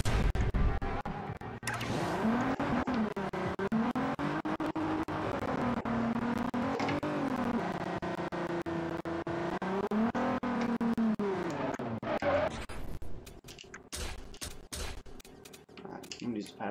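A Nissan GTR's engine in the Forza Horizon video game revs up and down in repeated swelling, rising and falling waves, loud and steady, then cuts to scattered clicks and lighter noises near the end.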